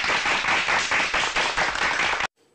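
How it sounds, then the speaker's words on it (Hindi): Audience clapping at a Hindi political talk event, a dense, steady burst of many hands applauding for about two seconds before cutting off abruptly to near silence. "बजाओ ताली"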